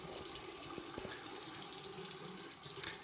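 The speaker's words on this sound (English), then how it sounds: "And then warm tap water." Warm tap water running from a faucet into a sink, a faint steady splashing flow that stays even for a few seconds with no talking.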